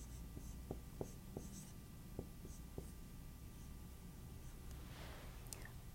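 Pen or marker writing out an algebra problem, a run of scratchy strokes and taps that come close and fairly faint over a low background hum, with no talking.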